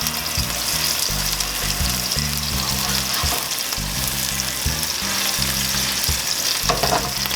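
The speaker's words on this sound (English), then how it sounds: "It's exactly what you want to hear when you put the meat on the pan." Elk steak pieces searing in a hot oiled pan on a stove, a dense, steady crackling sizzle with low rattling clatter of the pan moving throughout, no talk.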